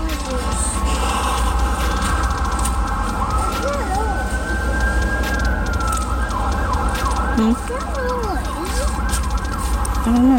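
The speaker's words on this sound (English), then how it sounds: "It sounds like a fire truck." Fire truck siren wailing in the distance during a walk through grassy open ground, its rising and falling tones steady under moderately loud ambient noise, while people chat softly nearby.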